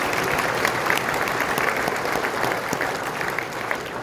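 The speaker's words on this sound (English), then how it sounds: "Good round of applause for her." An indoor audience claps for a presenter, a dense, steady round of applause that holds loud and even throughout.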